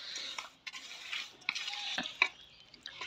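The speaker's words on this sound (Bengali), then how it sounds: "তেল দেওয়া হলো, দেখতে থাকো কীভাবে মাখছে।" Rita fish paturi is mixed by hand with oil, giving faint wet squelching and light clinks against a dish in a few short, irregular bursts, quiet and close with no voices.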